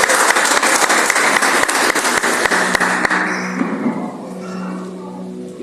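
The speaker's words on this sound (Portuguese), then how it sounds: "Salve de palmas ao Senhor" A church congregation at a family worship service breaks into dense, loud applause with a few steady rhythmic claps. It thins and fades after about three seconds into a quieter room hum.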